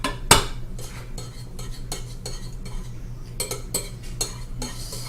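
A metal spoon stirs melting coconut oil in a bowl for lavender bath salts, giving a sharp clink and then a series of light scraping, tapping strokes, close and fairly quiet.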